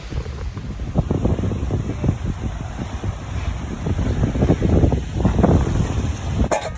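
Strong wind gusts buffet the microphone at a lakeside campsite on Booth Lake in Algonquin Park in early September, a steady loud roar with rumbling surges and no voices.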